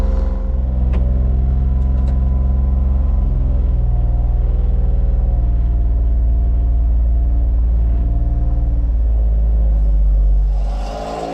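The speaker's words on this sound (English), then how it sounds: "last time driving this with internal combustion power" A Honda Beat's small combustion engine rumbles at a steady, loud idle close by, a deep continuous drone with layered engine harmonics that holds for several seconds before tapering slightly at the end.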